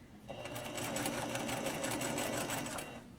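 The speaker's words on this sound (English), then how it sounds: "And sew right up to there." A sewing machine stitches a flat cap sleeve seam, running steadily at close range with a fast, even mechanical whir from start to finish.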